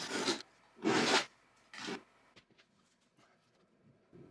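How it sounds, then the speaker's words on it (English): A blade cuts through compressed fiberglass wall insulation held under a straight edge, making three short, close, rasping tearing strokes followed by faint rustling. "That squishes the insulation, and then it cuts super easy, like that."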